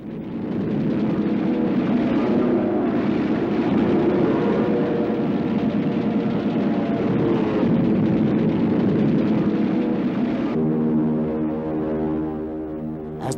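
Japanese warplanes attacking Midway Island in World War II archival film, heard as a loud sustained drone of aircraft engines with rumbling roar, shifting into a wavering pulsing engine tone near the end.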